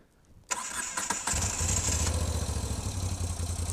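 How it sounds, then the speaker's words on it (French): A Moto Guzzi V7 III Stone motorcycle is started: a sharp crank catch, then the engine fires and settles into a steady, loud, throbbing idle close by, with no talking over it. "comment est-ce qu'elle démarre celle-ci?"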